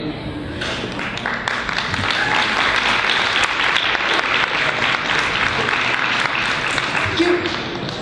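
Sustained crowd applause fills the room after a Quran recitation by a Muslim Student Association member, a steady dense clapping from many hands that continues unbroken throughout.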